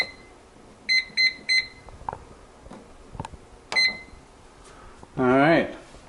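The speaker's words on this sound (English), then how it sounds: "Turn on the timer." A kitchen timer set while bread bakes in an oven, giving a quick run of three electronic beeps, then a single beep, clear and close among soft kitchen clatter, followed by a brief voice.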